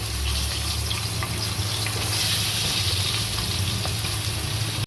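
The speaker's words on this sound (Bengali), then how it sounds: "এই যে ডিমগুলো সিদ্ধ করে খোসা ছাড়িয়ে নিয়েছি, এবারে হালকা ভেজে নিচ্ছি" Boiled, peeled eggs lightly frying in a pan, a steady close sizzle and crackle that holds evenly throughout, with no voices.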